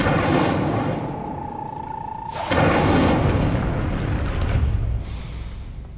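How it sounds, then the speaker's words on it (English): The Incendio fire spell bursts out in Hogwarts Legacy gameplay, a deep booming whoosh and rumble that swells loudly, then a second blast follows and trails off. "Incendio!"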